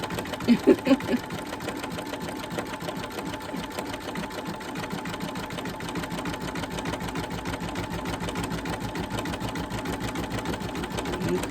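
Embroidery machine stitching an Easter bunny table runner, a steady rapid mechanical chatter of the needle running continuously after a few brief knocks at the start.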